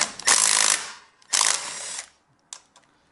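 A ratchet wrench clicks in three bursts, two long runs and one short one, while loosening 8mm frame bolts on a Honda Ruckus during a GY6 engine swap. It is close and clear, with quiet between the bursts.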